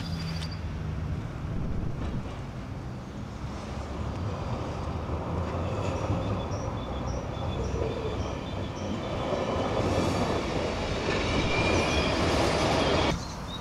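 A Östgötapendeln regional train rumbles and rattles steadily at Norrköping station platform, track 3, with metallic clanks and a low hum building slightly before cutting off.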